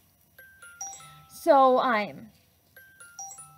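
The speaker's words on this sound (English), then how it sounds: "of course that's when my phone would go crazy" A phone goes off near the mic with a string of short electronic notification beeps, then a louder rising ringtone melody, followed by more sparse tones. A voice speaks briefly under it.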